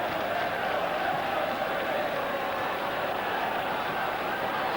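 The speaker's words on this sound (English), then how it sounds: "Southampton fans making their appreciation heard." Southampton football crowd at a 1982 match against Liverpool, a broad steady roar of cheering and applause from a large stadium audience, continuous and distant-sounding.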